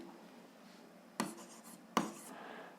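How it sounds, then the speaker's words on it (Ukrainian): Pen on paper makes a faint, steady scratch over a quiet room. Two sharp taps or strokes stand out partway through. "Ну і знов записуємо, що графік."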